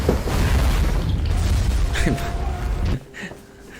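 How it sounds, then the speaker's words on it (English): Fireworks blasts in a video game, a dense, loud rumbling barrage of booms and crackle that cuts off abruptly near the end, followed by a quieter tail with faint voices. "Just some kid getting shot by fireworks"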